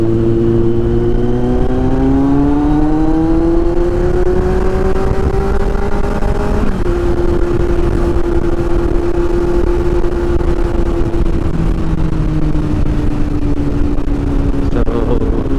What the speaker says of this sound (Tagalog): Alam natin medyo may kalakasan yung motor